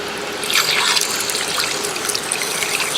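Water rinsing through a Johnson 20 hp outboard motor, a steady close hiss of flowing and splashing water with faint trickles and drips, with no talking.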